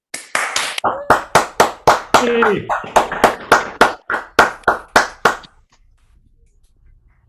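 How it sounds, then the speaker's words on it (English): Applause for graduates at a university geography and economics degree ceremony: a steady run of about fourteen sharp, evenly spaced hand claps, close and loud, with a brief voice cheering over them before quiet. "unmute and give a round of applause to our esteemed graduates"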